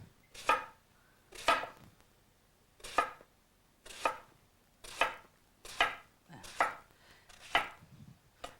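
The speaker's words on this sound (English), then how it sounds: "Cut it in slices." Knife cutting through eggplant on a cutting board in a home kitchen, eight separate slicing strokes about one second apart, each a crisp close chop with a little scrape, with quiet pauses between.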